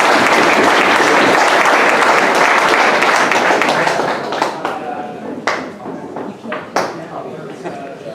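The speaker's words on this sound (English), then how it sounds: "Nice round of applause for our track record" A dense roar of applause fills a speedway awards banquet for the new track record holders, loud and sustained for several seconds before thinning into scattered claps and a few voices.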